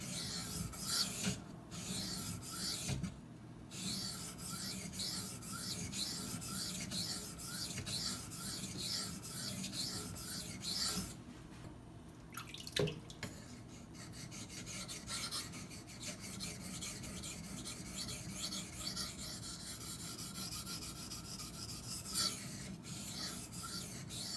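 Steel rasps steadily against a sharpening stone as a Cold Steel Demko AD-15 knife blade is honed, a continuous, close grinding stroke sound broken by a few short pauses, with no talking.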